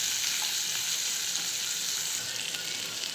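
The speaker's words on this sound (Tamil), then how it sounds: "இஞ்சி லேசாக அந்த வாசனை வர்ற வரைக்கும் வதங்கட்டும்" Ginger and onion sautéing in an oil pan give a steady, close, even sizzle that runs unbroken throughout, with no voices over it.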